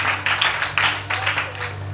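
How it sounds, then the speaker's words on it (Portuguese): A church congregation applauding, a dense burst of many hands clapping in uneven waves that fade over about two seconds. "Igreja, aplauda o nome do Senhor"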